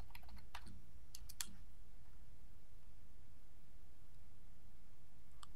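Typing on a computer keyboard while setting up a custom WPF control, a short burst of quick key clicks at the start, then a brief pair near the end, close and fairly faint over low steady hiss.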